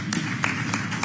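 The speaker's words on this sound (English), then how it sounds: "Round of applause, ladies and gentlemen." An audience at a business summit applauds, but only a few sparse claps come through, faint and spaced apart, over a steady room hum.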